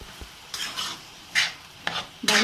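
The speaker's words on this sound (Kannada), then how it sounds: "ಈಗ ಒಂದು ಎರಡು ನಿಮಿಷ ಹಿಂಗೆ ಫ್ರೈ ಮಾಡ್ಕೊಳ್ಳೋಣ ಸಾಕು" Cooked banana stem frying in oil is stirred in the pan, giving a few short scraping, rasping bursts spaced over a couple of seconds, with only a faint sizzle between them and no voices.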